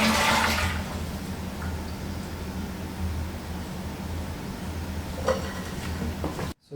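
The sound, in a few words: toilet being flushed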